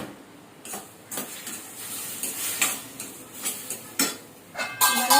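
Ingredients for a tomato chutney meant for bondas are fried and stirred in a pan, a steady sizzle broken by repeated scraping and clinking strokes of a spoon against the metal, close and fairly loud, with no voices.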